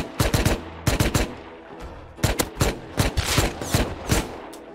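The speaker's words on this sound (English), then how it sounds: "I'm just gonna come out and help fire." Rapid gunfire in the Rust video game, loud bursts of automatic shots in several clusters with short pauses between them, no voices over it.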